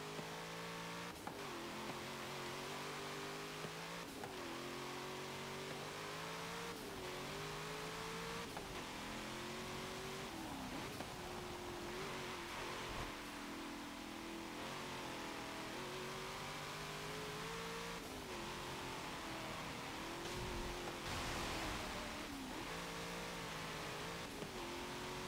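A 2016 Cadillac CTS-V sedan in a racing game, its engine droning steadily through repeated rises and falls in pitch as it revs up and shifts, loud and continuous with no speech.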